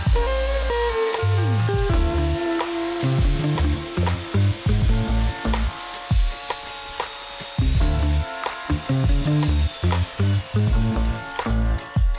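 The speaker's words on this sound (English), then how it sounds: "with a 3-inch core drill" A 3-inch core drill bores an on-site hole for a railing post with a loud, gritty grinding whine. The cutting comes in uneven bursts broken by short stops and clunks, with no talking.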